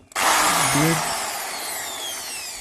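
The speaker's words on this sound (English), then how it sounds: "if your drill bit and all is out, make sure you do it very slowly, otherwise the hole will become bigger" A power drill bores holes in a plastic mud flap for a Honda CB350RS front fender extender, a steady loud whirring grind that holds for about two seconds with no talk.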